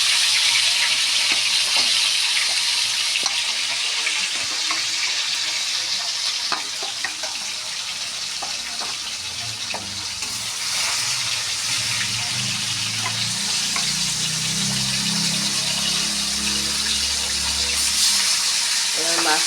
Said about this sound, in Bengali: আমি মাছগুলো ভেজে নিচ্ছি।